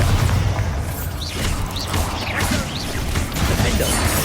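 Chaotic Hogwarts Legacy combat din around a Bombarda blasting spell, with dense crashing, whooshing spell effects and rumbling low impacts running continuously at steady loudness.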